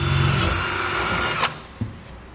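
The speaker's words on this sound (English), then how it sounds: "And then drill through." A power drill bores a pilot hole through a steel truck-frame bracket while installing a Curt custom fifth wheel mount on a Ram truck, whining loud and close, then stopping abruptly, followed by a couple of clunks.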